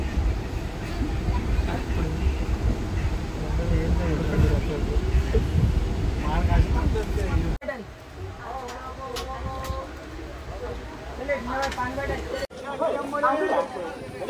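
A train rumbles steadily on the way to Ratnagiri, its loud, low running noise filling the first half before the sound shifts to a quieter, busier scene with chatter. People talk throughout.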